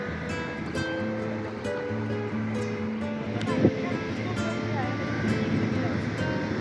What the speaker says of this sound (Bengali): আজকে প্রচুর ঢেউ। হ্যাঁ, আজকে অনেক ঢেউ।